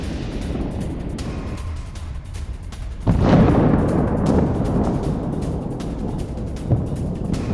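A loud, deep landmine blast booms suddenly and then rolls into a rumbling roar over steady background noise, with a smaller thud following a few seconds later.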